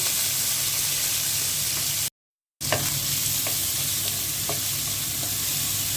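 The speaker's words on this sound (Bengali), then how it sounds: "মাছ ভাজা তেলের মধ্যে পেঁয়াজ দিয়ে দিচ্ছি।" Onions sizzling in leftover oil from frying rohu fish, a loud steady hiss near the pan with occasional spatula scrapes, briefly interrupted by a short silent gap.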